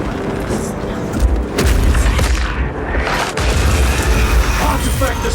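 A loud, heavy booming crash as the marked altar artifact is destroyed in Warhammer 40K Space Marine 2, a dense sustained rumble with a sharp break midway.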